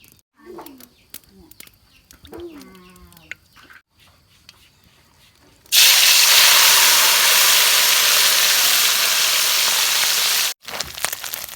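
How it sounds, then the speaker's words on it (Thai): Small fish frying in a hot oiled pan: a loud, steady sizzle that bursts in suddenly and runs for about five seconds, after someone talks briefly. "ตั้ง กระทะใส่น้ำมันให้ ร้อนๆเนาะแล้วค่อยเทปลาใส่นะครับ"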